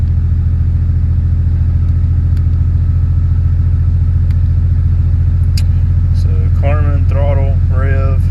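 Toyota Supra engine with a freshly upgraded setup idling at steady, loud, low rumble, later joined by a voice talking over it near the end.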